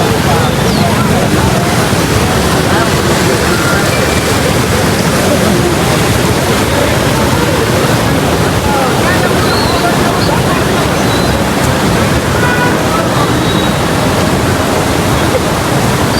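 The Navli river, flooded after rain, rushes past in a loud, unbroken roar of churning water, heard close and constant throughout, with wind buffeting the microphone.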